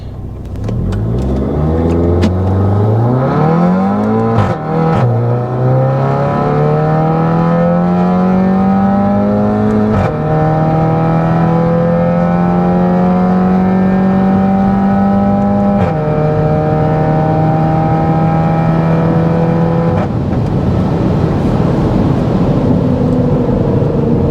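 A Maruti Alto car on its first drive with a manual gearbox, engine revving loudly and climbing through several gear changes, each pull rising in pitch before a drop, steady and close.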